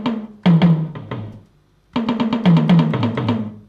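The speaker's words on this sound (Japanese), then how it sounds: "これがタムタムの音ですね。" Tom-tom drums sound in a DTM drum-programming demo, with loud, close, punchy hits. A quick fill of several strokes is followed by a short pause, then a longer, faster run of rapid tom hits descending in pitch, with no voices.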